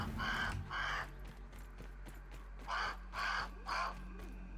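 Crow cawing in a video game, five hoarse caws in two groups, a pair then a trio, fairly close above a low ambient hum.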